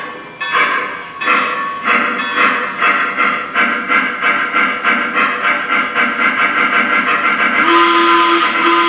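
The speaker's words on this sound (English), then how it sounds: "I'm going to go ahead and just increase the speed and let you hear what it does on its own" A Y-3 Legacy 2-8-8-2 model steam locomotive's sound system chuffs in a steady rhythm that quickens as speed rises, loud and close, with hiss and a sustained whistle tone near the end.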